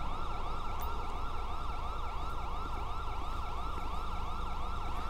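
Police car sirens in GTA 5 with the LSPDFR mod wail nonstop in fast, regular rising and falling sweeps, loud and near, over a constant rumble with no talking.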